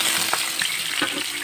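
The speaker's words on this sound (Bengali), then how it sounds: "এবার পনিরটা ফ্রাই করবো" Paneer frying in sunflower oil in a pan, a steady dense sizzle with a few light scraping clicks from stirring, close and moderately loud, no voices.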